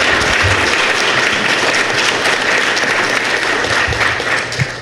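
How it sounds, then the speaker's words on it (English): An audience at a 2000 AD comics panel in San Diego, 2017, applauds a guest named Dave, a loud, even roar of many hands that tapers slightly at the end. "Actually, give Dave a round of applause"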